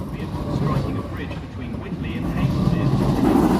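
A South Western Railway Class 455 electric train at Woking station gives a steady, close rumble with a building low roar and faint station ambience underneath.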